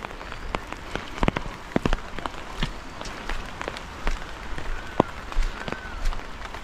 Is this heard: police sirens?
no